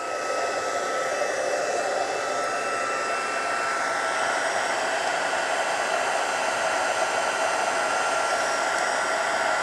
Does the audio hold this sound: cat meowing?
no